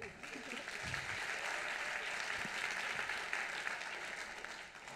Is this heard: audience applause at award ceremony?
yes